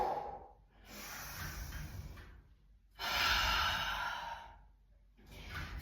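Slow, deep breaths drawn in and pushed out during a reformer Pilates exercise, with three audible airy waves of inhaling and exhaling, close and clear with no talking.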